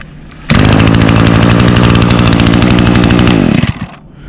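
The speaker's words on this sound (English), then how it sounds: "Now I'll demonstrate that i30 recoil starter" A string trimmer engine fires on the i30 recoil starter and runs loud and close with a steady, buzzy two-stroke drone for about three seconds before cutting out and sputtering to a stop.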